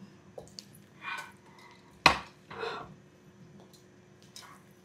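Stir-fried noodles with mutton, shrimp and broccoli being tossed with fresh coriander in a pan: a few soft scraping and squishing strokes, one sharp metallic clink in the middle, quiet and close.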